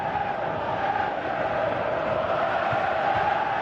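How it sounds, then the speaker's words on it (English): A stadium crowd in the PES 2018 football video game cheers in a steady, broad roar that holds at an even level without pauses. "Crowd appreciates good football all round there."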